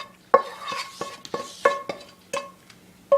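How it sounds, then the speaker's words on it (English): Crab imperial soufflé base mixed with a spoon in a bowl with a vegetable medley, giving a run of distinct scraping, clinking stirs at an irregular rhythm, close and fairly clear with no talking. "And then we'll just stir it all together until it's well combined."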